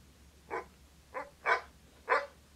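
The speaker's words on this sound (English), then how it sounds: "Oh, there's a dog outside." A dog outside barks four times, the sharp yaps spaced unevenly and sounding moderately distant over a faint low hum, with no voices.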